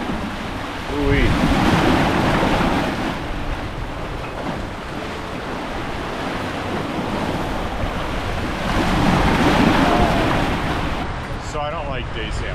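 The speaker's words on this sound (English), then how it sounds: "Still have these pretty big following seas that won't look like much to you" Big following seas rolling past a sailboat offshore, a steady wash of surf with wind noise buffeting the microphone and a swelling surge mid-clip.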